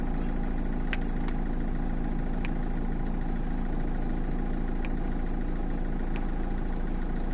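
The 1.4 HDi engine of a Peugeot 206 idles with a steady, even drone, with a few faint clicks now and then and no talking.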